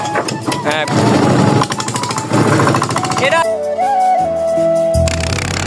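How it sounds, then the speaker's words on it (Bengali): A motor boat engine runs on a canal near the Meghna river after being restarted, loud, close and rapidly pulsing, with a steady rattling chug that carries on continuously before shifting to a smoother drone. "এখন আবার নৌকাটি স্টার্ট দিয়ে আমরা যাচ্ছি"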